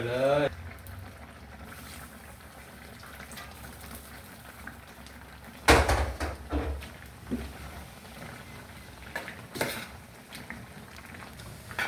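Bamboo shoot curry with coconut milk, pork and ground rice bubbling in a pot while it is stirred, with a soft simmering hiss, occasional scrapes and clunks, and someone talking over it.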